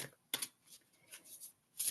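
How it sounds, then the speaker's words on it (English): Oracle cards being shuffled by hand: a few short papery riffling bursts spread across two seconds, fairly close and soft, with no talking. "We're going to shuffle the deck."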